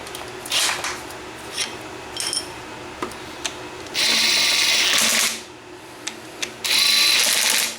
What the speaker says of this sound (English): and then we just tighten those 4 pinch bolts back up